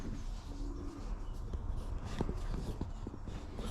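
Pigeons coo inside a dim shed among young birds, soft low repeated coos close by, with light shuffling and tapping around them.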